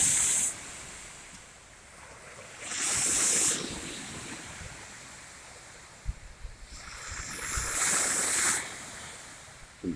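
Waves wash onto the Lake Ontario shore in southern Ontario, Canada, swelling in hissing surges several seconds apart while steady wind buffets the microphone.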